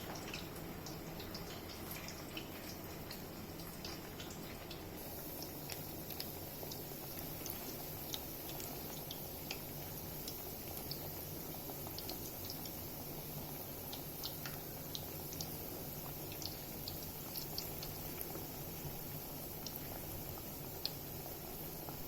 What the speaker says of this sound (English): The bondas are getting fried well